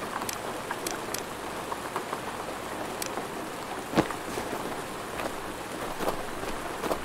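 Steady rain patters across the ground in the survival shooter Road to Vostok, a soft even hiss dotted with scattered louder drips and splashes, moderately quiet with no voices over it.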